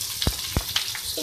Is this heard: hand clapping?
no